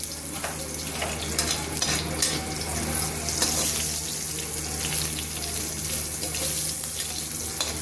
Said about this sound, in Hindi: इसको भून लेते, गैस को तेज कर देते